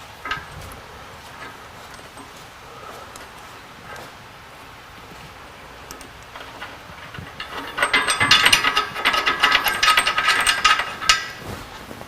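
A ratchet wrench drives bolts on Toyota Tacoma rock sliders for a third-generation truck, a burst of rapid clicking ratchet strokes rising loud and close over a quiet background for the last few seconds.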